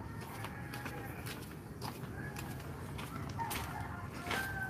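A red rooster crows at night, a faint, steady call set against constant background noise.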